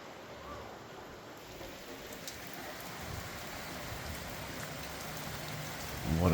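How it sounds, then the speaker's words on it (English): Steady heavy rain pours down in a dense, continuous hiss, with a faint low rumble of distant thunder underneath and no voices. "What a storm."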